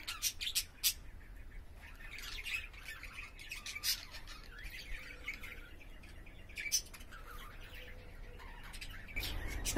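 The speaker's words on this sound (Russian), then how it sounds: "А вот, посмотрите, волнистые попугайчики." Budgerigars in a large park aviary chirp and squawk in quick, bright bursts, several birds calling at once over a quiet outdoor background.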